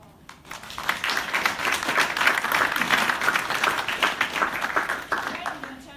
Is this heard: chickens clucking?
no